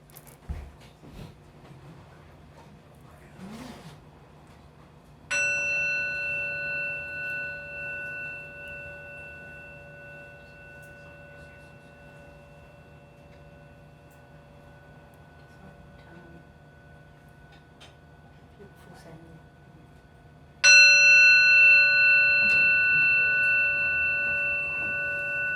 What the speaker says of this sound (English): I bought one of those bells, and I just want to play that